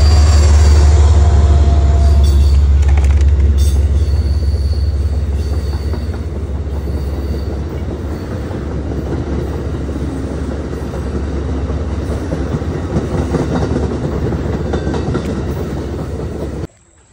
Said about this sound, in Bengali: কিছুক্ষণ পর পর শুধু ট্রেন যায়